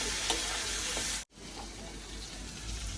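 Green beans sautéing with salt in a hot pan, a continuous close sizzle with stirring, broken by one brief silent cut before the frying resumes.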